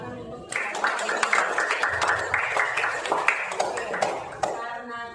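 Junior high students in a classroom clap together, a lively scattered burst of hand claps mixed with chatter and voices, fading out toward the end.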